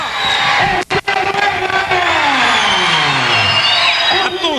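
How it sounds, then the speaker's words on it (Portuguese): A large crowd of He-Man's fans roars and cheers around a wrestling ring, loud and sustained, with whoops and yells, a brief dip, then rising again. "a torcida do He-Man é impressionante"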